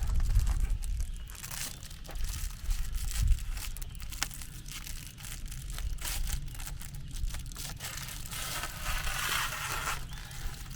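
Close, continuous crinkling and tearing of plastic house wrap being pulled off wood, with steady rustling and occasional crunchy snaps.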